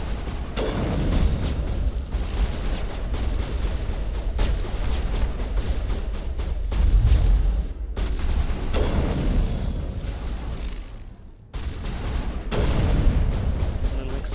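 Gunfire and explosions in the video game Mass Effect 1 Legendary Edition, a dense, continuous barrage of loud booms and shots lasting throughout with brief gaps, no talk over it.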